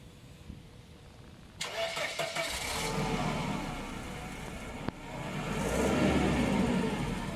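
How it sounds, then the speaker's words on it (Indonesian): A 1995 Mercedes E 220 automatic cranks and fires up abruptly after a quiet stretch, settling into a steady close idle with a brief catch and rising hum partway through. "gue lagi nyobain mobil Mas Irsan nih 220 Matic"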